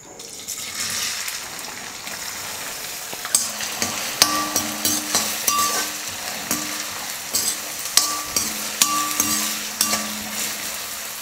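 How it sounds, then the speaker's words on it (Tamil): Steady sizzling of food frying in oil, with repeated scraping and stirring knocks as the pan is worked, close and continuous. "மீதி வெங்காயத்தை இப்போ எண்ணெயில் சேர்த்துக்கலாம்."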